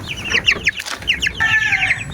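Young chicks one to two weeks old in their coop, a busy run of high chirps and clucks overlapping in quick bursts, close and fairly loud, with a brief flutter in the middle.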